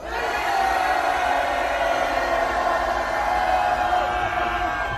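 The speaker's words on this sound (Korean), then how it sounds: "여러분 함성 5초간 발사!" A large crowd at an outdoor political rally in Gangnam, Seoul roars and shouts continuously for several seconds, a dense, sustained wall of cheering voices.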